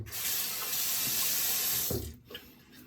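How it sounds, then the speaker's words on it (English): Shaving cream being rinsed off under a running tap gives a steady, close hiss of flowing water that cuts off near the end, followed by a few faint drips and clatters. "Let me wash this off."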